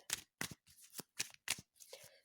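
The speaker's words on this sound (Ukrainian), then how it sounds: "дуже зручно її тасувати" A small, standard-size tarot deck is shuffled close up, giving about six crisp riffling bursts at an even rhythm with short gaps between them, quiet and with no voices.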